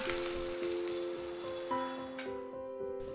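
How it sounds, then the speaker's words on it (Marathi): Hot spiced oil tempering (phodni) crackles and sizzles as it is poured over Nagpur-style gola bhaat, a dense close spattering hiss under steady background music that gradually softens. "आता तयार फोडणी गोळा भातावर अशा प्रकारे पसरवा व या फोडणीच्या तडतडण्याचा छान आवाज येऊ द्या"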